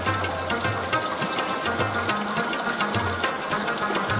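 Water gushes steadily from a mountain spring between rocks, a continuous loud rushing and splashing close by with no pauses.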